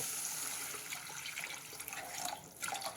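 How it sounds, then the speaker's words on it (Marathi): Water pours steadily into a cooking pot of traditional Maharashtrian dish, a moderately quiet continuous splashing stream with no speech. "पाणी टाकून घेणार आहोत"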